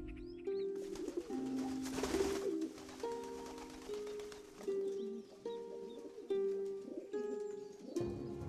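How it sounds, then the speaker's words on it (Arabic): A pigeon coos repeatedly, close by on a street in Muscat governorate, Oman, its soft rolling calls coming in a steady series with brief pauses and a little background noise between them. "نجد حمامة بجانبنا تلتقط الحبة"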